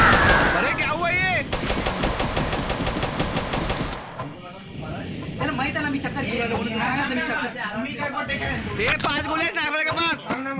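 Rapid automatic gunfire in the Mini Militia mobile shooter rattles in a fast, even stream, then breaks into scattered shots and bursts, loud and close, while excited voices talk over the action.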